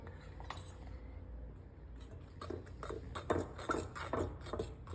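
A spoon clinks against a bowl while flour is mixed into batter for bolinho de chuva, quiet irregular taps and scrapes that grow busier toward the end.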